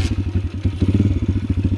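Loncin 125 motorcycle engine idling close by with a steady, pulsing low thump and a light mechanical clatter, running alone without any talk.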